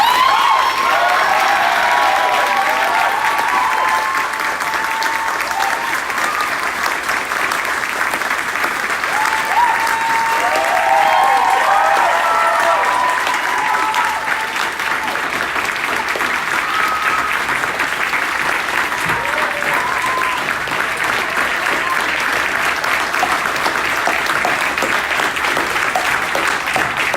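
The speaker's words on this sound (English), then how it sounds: "I think you can all join me in a round of applause" A crowd at the Feast of Leviathan 2020 gathering breaks into long, loud, sustained applause, a dense wash of clapping with scattered cheers and shouts mixed in.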